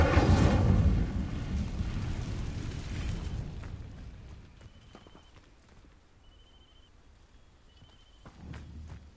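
In Hogwarts Legacy, the Incendio fire spell opens with a loud, rushing burst of flame that fades over about four seconds into quiet, leaving faint tonal chimes and soft ambient noise.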